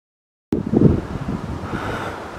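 Wind gusts steadily across the Rocher du Vent, a mountain rock, roaring and buffeting close up after a sudden start, with no voices.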